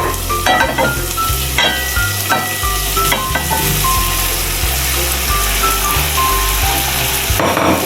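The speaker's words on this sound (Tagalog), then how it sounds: "Ayan, haluin lang ulit natin." Pork fries in a pan while being stirred, giving loud, close scraping and clanking over a constant sizzle, with a heavy low rumble underneath throughout.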